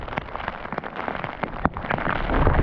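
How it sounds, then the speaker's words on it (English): Heavy pouring rain falls steadily on trees and the ground outdoors near a lake during a fishing trip, forming a dense, loud hiss that builds slightly toward the end, with no voices. "Whew, the rain's cold."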